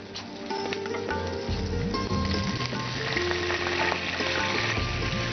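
Green chilies sputtering in hot oil, with ginger paste and a splash of water going in, fill the pan with a loud, dense sizzle. Clattering utensils and stirring run throughout.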